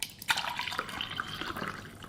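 Frothed water pours from a budget hot chocolate maker, a close splashing, dripping stream lasting about two seconds with a few brief surges and no talking.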